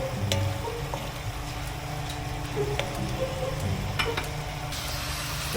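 Pork fat sizzles in a pan as it slowly renders for a winged bean dish, a steady crackling hiss with scattered pops, close and continuous without talk.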